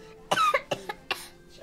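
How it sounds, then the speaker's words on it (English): A few sharp, close coughs in quick succession, with no talking. "That's a pretty bad cough you have there."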